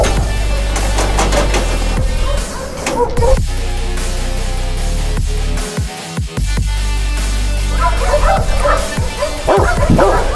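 Pack of hunting dogs from a Spanish rehala, barking, yipping and whimpering together loudly and close by in a continuous overlapping chorus, with a brief lull midway.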